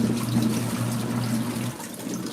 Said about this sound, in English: So we'll let it agitate for a while.